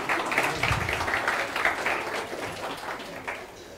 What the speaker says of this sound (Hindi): एक बार ताली बजा दो इनके लिए।